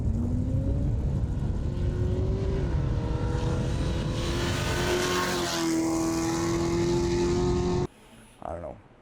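A Hellcat V8 with custom equal-length headers in a mid-engine Ultra4 build revs up loud and close, its exotic tone climbing and holding before cutting off abruptly, followed by a short faint burst.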